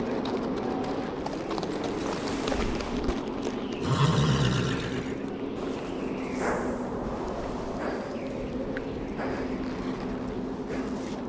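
A horse in the Game of Thrones PC game snorts and whinnies once amid hoof clip-clops at a castle gate, over a steady ambient wind-like background.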